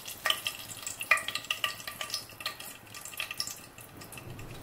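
Bay leaves and whole garam masala sizzle in hot oil for chicken polao, a steady near crackle with sharp pops and spatters scattered throughout, no talking.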